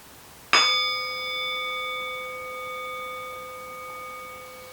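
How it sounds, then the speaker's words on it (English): A single bell struck once during a calm children's yoga session, a clear bright ding that rings out with sustained tones slowly fading over several seconds, alone in quiet surroundings. "in a moment I'm going to ring the bell again"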